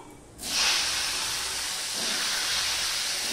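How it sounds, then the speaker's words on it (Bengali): Green mango pieces drop into hot oil tempered with five-spice, bursting into a loud, steady sizzle that starts abruptly and holds close and bright for several seconds. "এবার আমি দিয়ে দিচ্ছি আমের টুকরোগুলো।"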